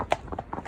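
Horse hooves clip-clop in a quick, even rhythm as a cob named Scarlet is ridden out hacking, several close, fairly soft hoofbeats without speech.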